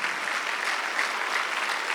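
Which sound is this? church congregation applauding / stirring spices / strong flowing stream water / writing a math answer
church congregation applauding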